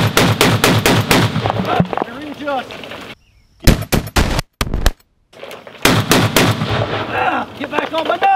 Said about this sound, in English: Shoot the gun, Dum Dum